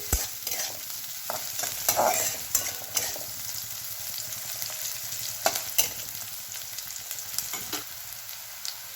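Onion and green chili sizzling in oil in a pan for a village-style tandulja greens dish, a steady frying hiss broken by the scrape and clatter of a spoon stirring, close and with no talk.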